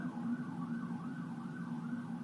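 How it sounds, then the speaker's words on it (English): A wailing siren rises and falls steadily at a distance, its warbling tone continuous beneath a low background rumble. "I hope you guys could hear the siren in the background."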